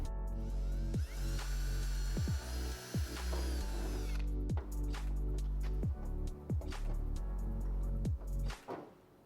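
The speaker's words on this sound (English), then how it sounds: "drill the opposite hole now" A power drill whines for about three seconds while boring a rivet hole for a car fender vent, followed by a string of sharp clicks and taps as the work continues.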